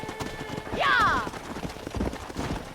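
A horse in Red Dead Redemption trots with quick hoof clip-clops and gives a short whinny, close by, while a man calls out over the hoofbeats.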